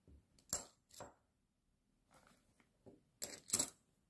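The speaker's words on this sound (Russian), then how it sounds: "Друзья, смотрите, сколько монет. Горище, просто горище-то." A pile of commemorative rouble coins handled in sharp metallic clinks: a chink, a softer one, then after a pause a cluster of bright jingles near the end, close and loud against silence.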